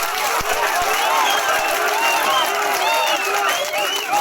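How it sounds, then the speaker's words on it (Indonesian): Steady applause and crowd noise fill a gathering during a regent's address in Yahukimo, dense and continuous, with excited voices calling out over the clapping. "Tepuk tangan dulu Kosaret dan Wilaret"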